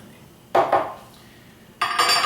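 A tablespoon scrapes and clinks against a container while scooping powder for a smoothie, one rustling scoop followed after a pause by a brighter metallic clatter, close and fairly loud.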